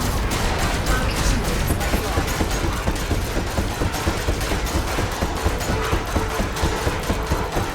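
Enforcer Cannon fire in the Elite Dangerous space combat game comes as dense, continuous rapid gunfire over engine noise, loud and sustained without a break.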